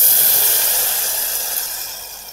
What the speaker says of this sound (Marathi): ह्या काही गरम पाणी आपण ठेवलं होतं थोडंच, ते आता ह्या पातेल्यात ओतणार गवारीच्या.